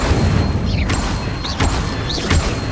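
Fire spell bursts cast with a wand in the video game Hogwarts Legacy, three whooshing flares spaced about a second apart over a steady low rumble, close and loud.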